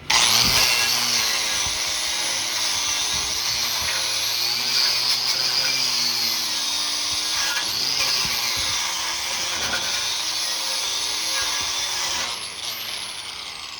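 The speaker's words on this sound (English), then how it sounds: "We're gonna grind it, use a wire brush." An angle grinder and wire brush work over a 7018 stick weld root pass on a D1.1 test plate, a loud continuous high whine with shifting grinding rasp, close and steady before easing off near the end, no talk.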